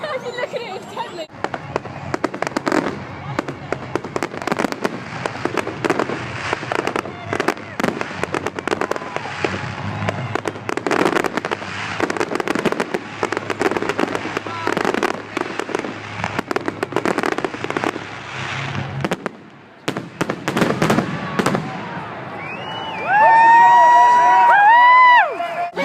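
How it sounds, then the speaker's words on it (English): Bonfire night fireworks bang and crackle in rapid, loud bursts over a cheering crowd, with people talking and shouting throughout, then fading as voices and fairground sounds take over near the end. "So we just come out of the fireworks and oh, it was so good."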